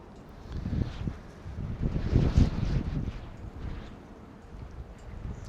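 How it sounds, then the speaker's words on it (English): A strong gust of wind buffets the microphone outdoors beside an open beehive during an inspection, a low rumbling roar that swells and fades over several seconds and stands alone. "There's a pretty good gust of wind"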